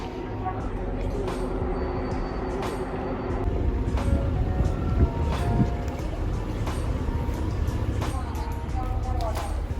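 A train runs from Brașov toward Bucharest, heard from inside with a steady low rumble and rattling wheel noise throughout, while people talk over it.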